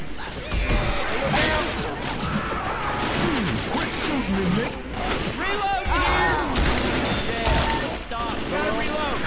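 Rapid gunfire bursts and impacts crackle almost nonstop on a multiplayer shooter game map, loud and dense, with quieter voices mixed underneath.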